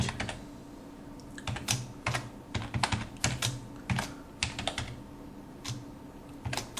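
Steady, rapid typing on a computer keyboard while writing an HTML span element, with close, crisp key clicks in irregular bursts and no voices.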